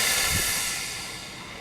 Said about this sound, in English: turn on the steam cleaner and hold on to the towel, and steam out the steam